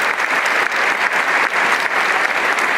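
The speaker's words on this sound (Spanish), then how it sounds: "Un aplauso para ellos porque hicieron un buen trabajo." A crowd at a short-film premiere applauds the filmmakers, a loud, continuous roar of many hands clapping with small surges in intensity, close and unbroken, with no voices on top.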